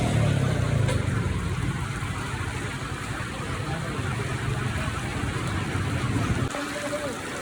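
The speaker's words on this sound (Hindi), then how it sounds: "माशाअल्लाह बड़ी तेज बारिश हो रही है।" Heavy rain pours in a city, a dense, steady hiss that stays loud throughout, with a low rumble beneath it that eases near the end.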